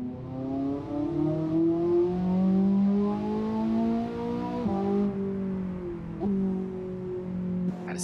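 Ferrari Roma with a 3.9-litre biturbo V8 revving in the Assetto Corsa racing game, a loud, steady engine drone climbing and falling in pitch through several gear changes, heard alone without talk.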